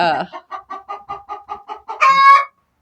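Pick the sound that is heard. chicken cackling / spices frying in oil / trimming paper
chicken cackling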